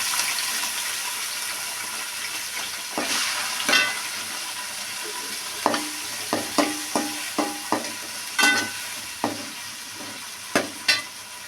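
Tomatoes and curry leaves fry in a hot pan with cumin and pepper for tomato kichadi, giving a steady close sizzle with scattered stirring scrapes and clicks, and no voices.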